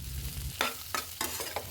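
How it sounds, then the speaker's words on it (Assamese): Baby potatoes, white peas and black sesame seeds being stirred in a wok, with a soft sizzle under a few distinct scraping strokes of the spatula, close and fairly quiet, without any voices. "তাখনেৰে চাৰিওফালে উৰাই ঘূৰাই ধুনীয়াকৈ লাৰি দিলোঁ"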